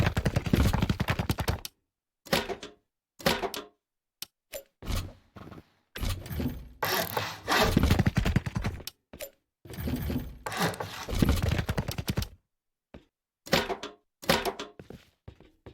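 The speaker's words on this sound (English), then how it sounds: "I'm going to go ahead and upgrade these to stone for the video" Base walls are upgraded to stone in Rust on console, with loud, close crunching impacts and clattering in rapid bursts separated by brief silent gaps throughout.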